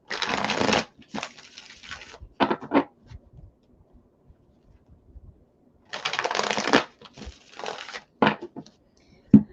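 Tarot cards are shuffled in two quick riffling bursts, each followed by a few soft taps and shuffles, with a quiet pause between them.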